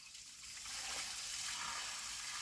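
Water pours steadily in a broad, continuous rush like a small waterfall, a close hiss that swells slightly after the first half second and holds level to the end.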